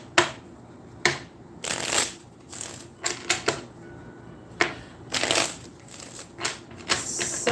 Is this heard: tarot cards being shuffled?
yes